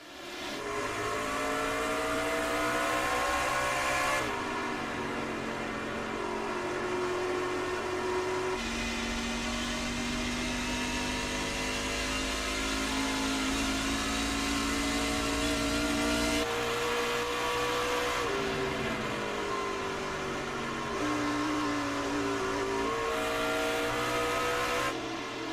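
Race cars thunder away at the green flag at Phoenix, a loud pack of engines roaring and climbing through the gears in overlapping waves, pitch rising and shifting as the field accelerates past for about twenty-five seconds.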